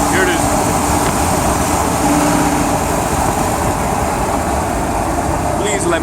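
A 5.4L Ford E250 van with a suspected engine issue droning with a steady low hum while driving, a constant loud road and engine rumble filling the cabin with no clear change.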